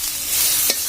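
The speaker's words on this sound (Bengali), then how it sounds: "হলুদের গুঁড়ো, ধনিয়ার গুঁড়ো। হালকা একটু ভেজে নিব।" Turmeric and coriander powder with salt fry lightly with vegetables in a pan, giving a brief, close, loud sizzle with a quick stirring scrape near the end.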